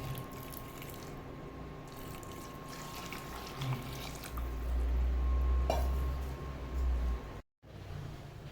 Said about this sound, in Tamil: அந்த சுடுதண்ணி அம்மா ஊற்றுறேன் பார்த்துக்கோங்க